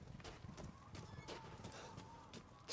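Goat hooves clatter in quick, uneven beats as the animal runs in pursuit in the video game Resident Evil Village, fairly close against a dense background.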